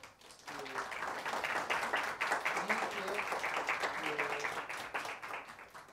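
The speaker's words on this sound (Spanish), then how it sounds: "les invito a que por favor la saludemos con un caluroso aplauso" Lecture audience gives a steady round of applause to welcome a speaker, quiet and somewhat distant, with a voice talking over the clapping.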